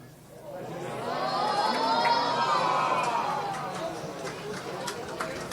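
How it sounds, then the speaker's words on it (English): Rugby crowd at a Munster versus Connacht preseason match reacts to a missed kick with a swelling roar that peaks and slowly fades, heard at a distance under a commentator's voice. "that's the sound of JJ Hanrahan just missing a kick as Connacht score their second try of the second half"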